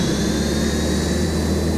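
A Concorde jet engine in a flight video game gives a loud, steady roaring whoosh that holds unbroken throughout, with no voices over it.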